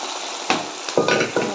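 Beef roast fries in a pan while a spoon stirs it, giving three or four scraping strokes over a crackling sizzle.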